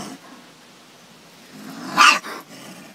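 A dog gives one sharp bark after a stretch of quiet outdoor background, followed by a brief softer trailing sound.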